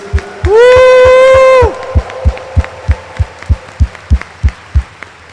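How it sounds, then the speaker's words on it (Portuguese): A church congregation at Sunday Lenten mass cheers with a loud sustained cry, then breaks into steady rhythmic clapping, evenly spaced beats continuing close and strong to the end. "Dê uma salva de palmas para Jesus bem forte."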